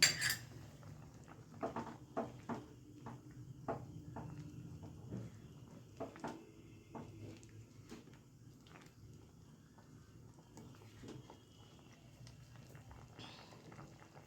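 Chicken Maggi soup noodles being stirred in a pot, with a utensil clinking and scraping against the metal in a scattered, irregular rhythm, close and fairly quiet, louder in the first half and then trailing off.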